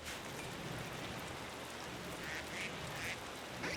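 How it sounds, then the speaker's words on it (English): Ducks quack in the video game RimWorld, a few short quacks heard over a steady hiss of rain falling on a surface. "Look at all these free ducks."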